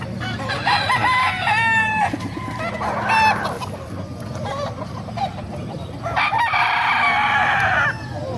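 Large kanawayan gamefowl roosters at a market, several loud, close crows with clucking and other poultry calls in between, over a busy background.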